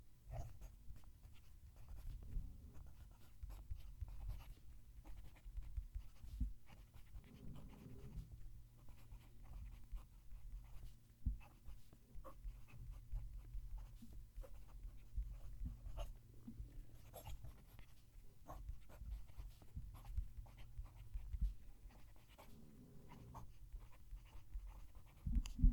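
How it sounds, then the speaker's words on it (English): A stub-nib fountain pen scratches across paper in a close, quiet, continuous stroke pattern with brief pauses between words, a faint background hum beneath. "Let's move the mic down to the page and write a sentence."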